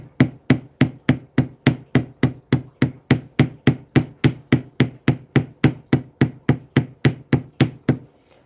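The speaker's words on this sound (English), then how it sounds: "So the hammering, not only does it give it a really nice, like, cool texture" Steady, rapid metallic hammer blows on parawire for a wire-wrapped ring, about three strikes per second, loud and close, continuing evenly with no talking.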